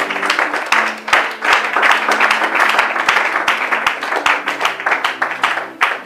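A church congregation applauds in a dense, steady patter of many hands clapping close by, with some rhythmic peaks and a held tone beneath.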